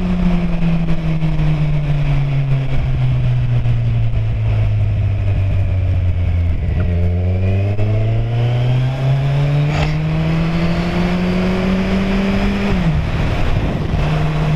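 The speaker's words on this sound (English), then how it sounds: "But this bike, it also makes a lot of noise, but it's different." Kawasaki Z1000 motorcycle engine revving while riding, a loud continuous roar whose pitch rises and falls through throttle changes, close and alone without talk.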